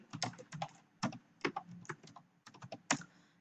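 Typing on a computer keyboard while entering data into a spreadsheet cell: quick close bursts of clicky keystrokes in uneven runs with short pauses, no talk.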